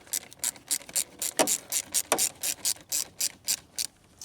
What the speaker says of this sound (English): So we'll loosen this clamp up.